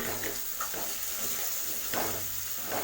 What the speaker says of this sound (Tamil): தக்காளி சேர்த்து நல்லா மிக்ஸ் பண்ணி விடுங்க